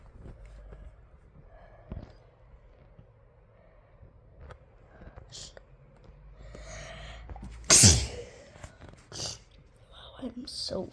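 A single loud, sharp human sneeze bursts out near the middle, standing clearly above quiet background sounds and some soft breathing.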